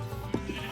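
A single short sheep bleat rings out in a Minecraft wool farm where dispensers shear the sheep, brief and fairly close over a steady background hum.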